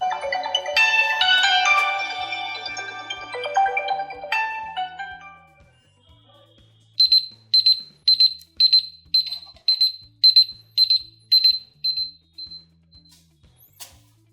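A smartphone alarm rings as a series of about ten short, evenly spaced electronic beeps, preceded by a brief chiming melodic tone that fades out, in a quiet setting.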